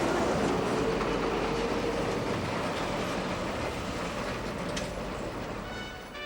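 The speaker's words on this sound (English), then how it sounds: "as trams and a motorbus pass" Trams clattering past in Blackpool in the mid-twentieth century, with a motorbus alongside: a loud, steady rumble of wheels on rail with faint clicks and a thin wheel squeal, easing off slightly toward the end, no voices.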